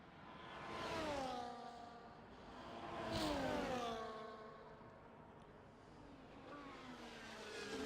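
F1 cars in an F1 video game head out onto the track, their high engines rising and falling in pitch as they pass in successive swells, faint and distant.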